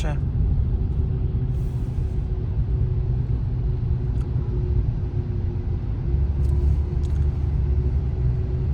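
Steady low rumble of a car driving through the streets of Kraków, heard from inside the cab, with constant road and engine noise and occasional faint clicks.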